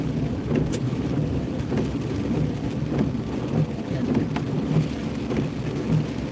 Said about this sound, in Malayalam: മഴ തുടങ്ങിയിട്ട് ഇതുവരെ മഴ കുറഞ്ഞിട്ടില്ല